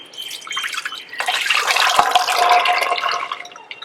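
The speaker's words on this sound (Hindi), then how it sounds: "तो अभी ये पानी भी साथ में डाल" Water is poured into a cooking pot of soaked kidney beans before boiling for Punjabi rajma, a steady close splashing and trickling pour that swells in the middle and tapers off, with no talk.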